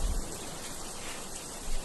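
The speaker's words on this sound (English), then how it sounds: "That's why I have this rain effect going on." Rain sound effect of steady broadband patter, like rain falling on a surface, constant and moderately loud with slight swells at the start and end, no talking.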